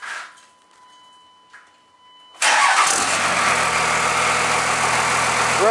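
A car with a Magnaflow exhaust cranks briefly and fires up, settling into a loud, steady, deep idle close by after a couple of quiet seconds with faint electronic tones.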